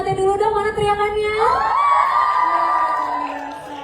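A hall audience of university students at a campus talk shouts and cheers loudly as one, a long rising whoop of many voices that rings on and then fades, following a speaker's call.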